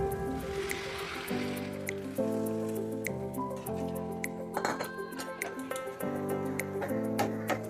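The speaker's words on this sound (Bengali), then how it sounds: "এবারে দিয়ে দিচ্ছি অল্প পরিমাণে জল" A little water poured into a cooking pot of young jackfruit curry, with a brief soft splash followed by light metallic clinks, all fairly quiet beneath steady background music.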